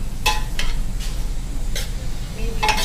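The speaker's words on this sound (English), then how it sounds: "And then you mix, and you let it fry with the medium" Onion and carrot for a tagliatelle ragù are stirred and fried over medium heat in a pan, a constant close sizzle broken by several bright scrapes of the spoon at irregular intervals, with no speech.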